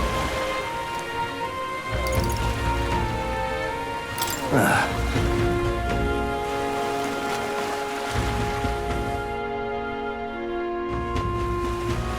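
Steady rain falls in a street scene in the Metaphor: ReFantazio role-playing game, a constant wash under game music, with a brief sweeping effect midway.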